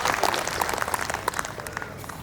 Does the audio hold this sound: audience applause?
yes